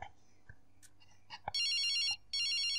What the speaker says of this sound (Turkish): telefonun çalmasından korktum